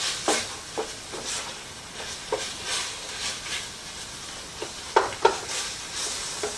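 Taco filling sizzles and simmers in a pan, a soft steady hiss broken by irregular clinks and scrapes of stirring, close and fairly quiet.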